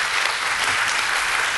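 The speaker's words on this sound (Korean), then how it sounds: "박수로 환영해 주세요" A church congregation applauds to welcome a pastor, producing a steady wash of many hands clapping that stays even and moderately loud from start to finish.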